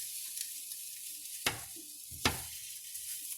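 Potatoes and vegetarian chorizo fry in a pan with a steady, soft sizzle, broken twice by sharp scrapes or clinks of a spoon against the pan.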